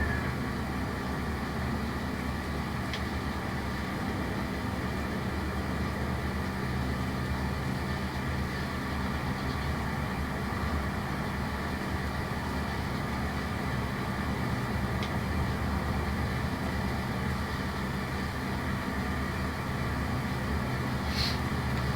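A small tractor engine in the Farming Simulator video game drones steadily and continuously at an even level for over twenty seconds, with no voices.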